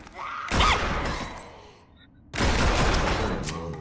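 Two guns in the video game Drop Dead: Dual Strike fire in two loud, close bursts of rapid shots separated by a short lull.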